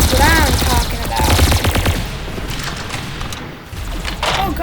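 Rapid bursts of automatic gunfire in the Roblox shooter Arsenal, loud and close, with sharp bright cracks and whizzing effects fading toward a quieter stretch before more shots return.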